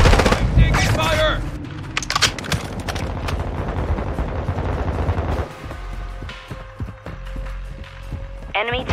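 Gunfire crackles in Call of Duty: Modern Warfare II on the Embassy map as rapid machine-gun bursts and shots over a rumbling battle. Shouted game voices cut in, and the firing thins out toward the end.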